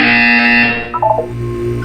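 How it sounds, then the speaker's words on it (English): A harsh electronic buzzer from the game Portal 2 drones steadily for about a second, then a few short rising electronic blips follow before a low hum remains. "You will hear a buzzer."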